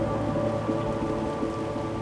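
A storm at sea in the video game Monument Valley 3 brings steady, dense rain with low thunder rumbling underneath, loud and continuous, with no voices.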